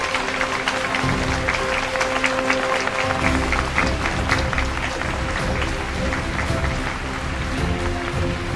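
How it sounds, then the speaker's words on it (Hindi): An audience bursts into a big round of applause honoring a scientist, steady, loud clapping from a crowd that continues without a break. "तो तालियों का बड़ा दौर हो जाए।"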